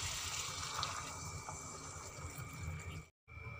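Warm water pours steadily into an eggplant and potato curry in a pot, a soft continuous splashing that is fairly faint and close, broken by a brief gap near the end.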